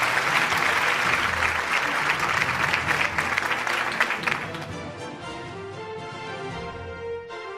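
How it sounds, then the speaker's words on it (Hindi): An audience at a news network's annual award show applauds an honoree, a loud, dense round of clapping that thins out and fades over the last few seconds as a faint tone lingers. "आपकी भरपूर तालियां होनी चाहिए खातिनों हज़रात खालिद मसूद गोंदल साहब के लिए।"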